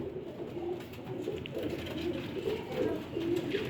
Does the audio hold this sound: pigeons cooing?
yes